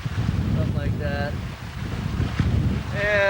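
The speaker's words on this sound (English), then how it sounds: "And a nice breeze going here" Breeze buffeting the microphone aboard a sailboat crossing Lake Huron in waves of about three to four feet, a steady rushing roar with water wash beneath and a voice speaking briefly over it.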